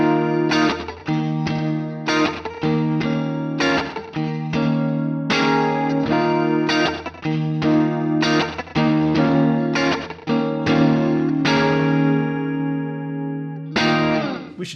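Guitar played through a Quad Cortex chorus effect, with a shimmering, detuned chordal tone in repeated rhythmic strums and sustained notes. It is loud, close and continuous, with no voices over it.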